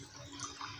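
Water runs and splashes briefly from a tap or jug as normal-temperature water is mixed with cold water in a vessel, a short close, steady pour with no talk.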